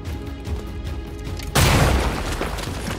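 Gunfire from an XCOM: Chimera Squad shootout, a sudden loud blast about halfway through that leaves a dense, sustained crackle of shots and debris after a steadier game backdrop, with no voices.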